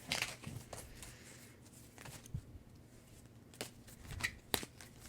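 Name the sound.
shuffling oval tarot cards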